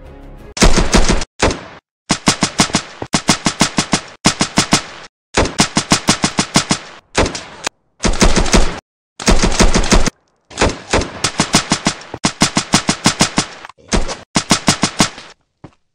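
Rapid bursts of video-game gunfire from a sniper-style weapon in Minecraft, loud and close, firing in repeated rattling volleys separated by brief pauses, with no talk.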